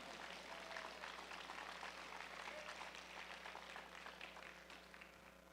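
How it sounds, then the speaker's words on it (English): A fairly quiet audience at a powerlifting national championship claps in a thin, steady patter that slowly fades toward the end, with a low hum beneath. "How about a big round of applause for that?"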